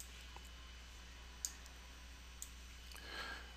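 Several faint, isolated computer mouse clicks sound at uneven intervals, small sharp ticks over a quiet hum, with a soft rustle near the end.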